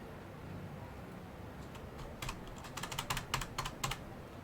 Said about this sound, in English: The 0 key on my keyboard is sticking.